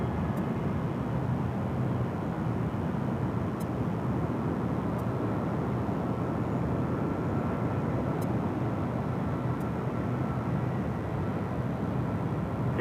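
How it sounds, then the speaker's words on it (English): An airliner on a flight from Munich arriving at LAX Los Angeles airport, a steady broad jet roar held constant and fairly loud throughout, with no voices. "It's a flight coming in from Munich."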